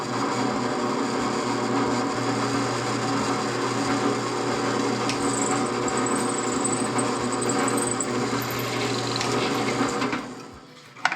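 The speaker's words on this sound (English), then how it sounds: "we'll drill this hole" A steady, continuous drilling whine with rasping grind as a hole is drilled in a pipe held in a groove block runs for about ten seconds, fairly close, then cuts off near the end.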